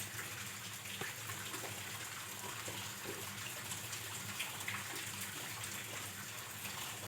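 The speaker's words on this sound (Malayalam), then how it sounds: "നമുക്ക് ഇച്ചിരി വെളിച്ചെണ്ണ ഒഴിച്ച് കൊടുക്കാം." Coconut oil poured into a cooking pan while making a mushroom gravy curry, a steady broadband hiss and gush that runs unbroken from start to finish with no talk.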